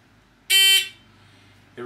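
A shot timer at a shooting range gives one loud, sharp electronic start beep lasting about a quarter second, close and alone, followed by the start of a faint sound right after.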